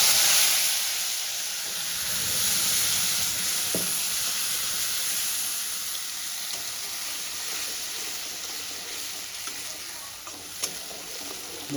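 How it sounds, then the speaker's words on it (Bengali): A fine paste of onion, garlic, green chilli and ginger sizzles in a hot pan, a steady broad hiss with occasional stirring clicks and small pops, fairly close and continuous throughout. "এবার আমি এই পেস্টটা দিয়ে দেবো।"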